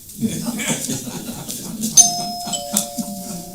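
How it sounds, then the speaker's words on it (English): A bell rings twice with clear sustained tones, the second following shortly after the first, over quiet talk and room murmur. "So that's our second bell."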